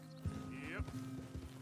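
An agitated Tennessee Walker horse in Red Dead Redemption 2 gives a few heavy hoof thuds and a short, rising whinny-like cry, close and moderately loud over a low steady background hum.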